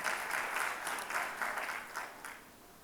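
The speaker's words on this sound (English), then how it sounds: "big round of applause to the guys here" A room full of people gives a warm round of applause for a winning team, the clapping steady and moderately close, swelling in small waves before tapering off near the end.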